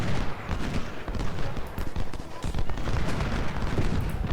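A dense, continuous roar of Civil War musket volleys mixed with cannon booms in the strategy game Ultimate General: Civil War, loud and unbroken for the whole stretch.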